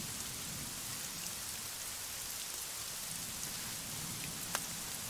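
Rain falls steadily in a dense, even hiss with scattered drops, holding at one level throughout and free of voices.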